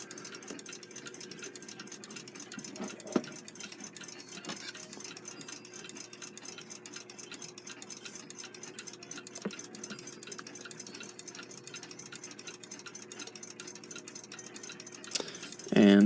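A Westclox Big Ben Loud Alarm style 5A clock mechanism ticking under rebuild, an even, rapid, faint tick running throughout with a brief handling clatter near the end.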